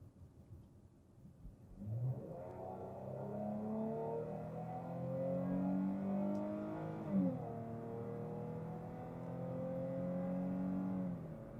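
A Dodge Charger SXT with a cat-back exhaust revs up with a deep, throaty exhaust rumble, rising and holding in pitch, then revving again, fairly close with no voices.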